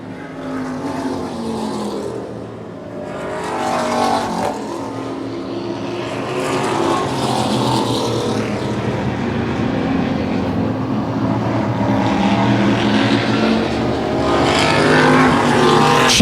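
Race cars roar around a short oval track on the final lap, engines loud and close, their pitch rising and falling as the pack sweeps past in a continuous, droning wash of sound.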